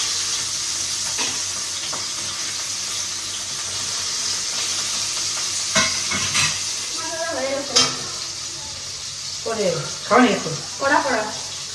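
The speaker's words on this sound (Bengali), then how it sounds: "এখন ওকে মাছগুলো আগে ভেজে পাঠাই" Fish frying in a pan gives a steady close sizzle throughout, with clinks of a utensil against the pan and voices talking intermittently over the frying, louder toward the end.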